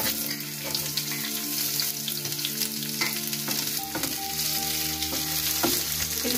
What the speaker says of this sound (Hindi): उसी तवे पर हम सरसों का तेल डालकर अब प्याज लहसुन को फ्राई कर लेंगे।